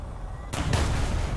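Bomb exploding in a combat flight video game with a Rafale C jet, a sudden loud blast that cuts in over a low rumble and rolls on as a broad boom for about a second.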